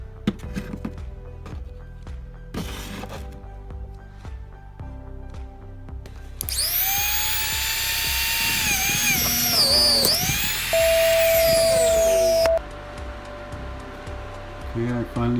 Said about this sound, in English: I'm gonna have to go ahead and get the grinding wheel here, and we're gonna have to cut these open